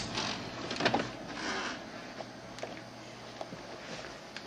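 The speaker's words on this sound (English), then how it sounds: "this little robotic arm is going to drop it in the finished queue" r-Quest DVD/CD copier with its robotic arm moving a disc, soft whirring motor sweeps and faint mechanical clicks and ticks, close and quiet over a low steady hum.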